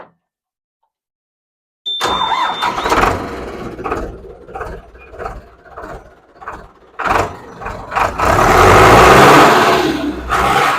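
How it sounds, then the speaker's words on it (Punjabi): After a moment of silence, a tractor engine cranks and rumbles into life, then revs up to a loud, sustained roar. "ਟਰੈਕਟਰ ਦੇ ਵਿੱਚ ਗੇਅਰਿੰਗ ਜਿਹਦਾ ਓਕੇ ਆ ਤੇ ਮੈਂ ਤੁਹਾਨੂੰ ਸਟਾਰਟ ਕਰ ਕਰਕੇ ਵੀ ਦਿਖਾਣਾ"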